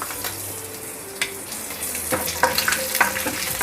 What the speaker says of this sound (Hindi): आधा चम्मच के करीब इसमें राई, मस्टर्ड सीड, वो ऐड कर रही हूँ मैं।